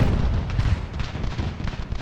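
Cannon artillery fire in Ultimate General: Revolution, a dense wash of low booms and rumbling blasts overlapping continuously, heavy and close throughout the short stretch.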